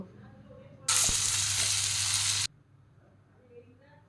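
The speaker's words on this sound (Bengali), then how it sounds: "আলুগুলো দিয়ে মশলার সঙ্গে আবারও খুব ভালোভাবে এটাকে কষিয়ে নেব।" Fried potatoes tossed back into spice paste in a pan for an egg biryani, giving a loud burst of sizzling that lasts a little over a second and a half and then cuts off abruptly into quiet.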